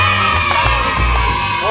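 A crowd cheers, whoops and shouts at a pool gathering, including children's voices; the noise is loud and continuous, close by, with no break over the short span.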